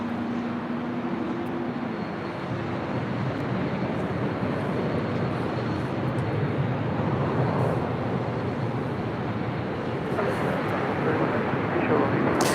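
Air Tahiti Nui Boeing 787-9 Dreamliner taxiing at LAX, a steady broadband jet engine rumble and hiss that holds level throughout, with a low hum early on and talk over the top.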